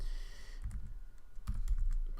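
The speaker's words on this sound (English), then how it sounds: "by typing Urturn" Irregular bursts of keystrokes on a computer keyboard, close and fairly quiet, with short pauses between quick clusters of taps and no talking.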